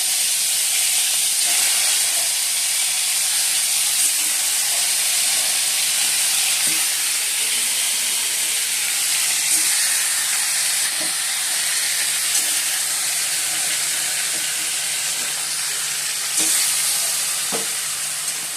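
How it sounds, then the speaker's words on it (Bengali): Chicken pieces fry in hot oil with cardamom, cinnamon and cloves, giving a steady bright sizzle and hiss over many seconds, with occasional soft stirring clicks and no talk. "এবার একটু লাল লাল করে ভেজে নেবো"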